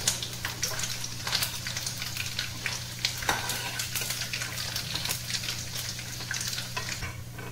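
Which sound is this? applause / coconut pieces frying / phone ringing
coconut pieces frying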